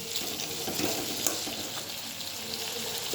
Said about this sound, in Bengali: এবার এই খুন্তি দিয়ে একটুখানি করে তেলটাকে কেটে দিতে হবে যাতে তেলটা ছোট ছোট হয়ে সবজির সঙ্গে মিশে যায়